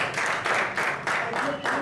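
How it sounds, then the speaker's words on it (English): A community policing event audience gives Commissioner Ham a short round of applause, a fairly loud burst of clapping that pulses unevenly in waves over under two seconds. "All right, Commissioner Ham, a round of applause."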